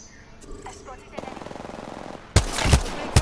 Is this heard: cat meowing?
no